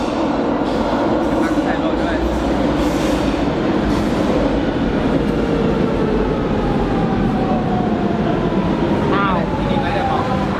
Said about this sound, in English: We just got off the metro at Cabo Ruivo, and this is the closest metro station to the Lisbon Aquarium